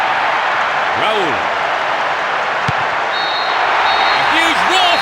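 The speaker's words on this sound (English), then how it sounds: "A huge roar from the crowd as the referee blows the final whistle." Stadium crowd roaring in the PES 6 football game, a steady loud broadband roar throughout, with a commentator's voice heard faintly over it at moments.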